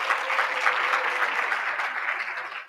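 Applause from the audience at a civil society launch and dialogue event, dense continuous clapping heard close and loud for nearly three seconds, tapering off at the very end.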